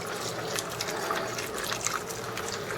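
Chicken stock from a quart carton pours steadily into a pot of vegetables for jambalaya, a continuous close liquid splash and gurgle with no talk.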